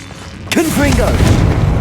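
A Confringo spell bursts in Hogwarts Legacy with a sudden loud boom and sustained roaring blast, as a voice shouts over it.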